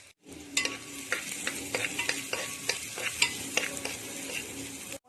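Onions sizzling in about two tablespoons of oil inside a pressure cooker, a steady frying hiss broken by repeated clinks and scrapes of a stirring spoon against the metal, close and fairly loud with no talk.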